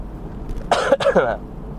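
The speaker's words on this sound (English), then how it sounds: "You ever cough so hard you bite your cheek?" A couple of short, harsh coughs close by, in quick succession, then quiet.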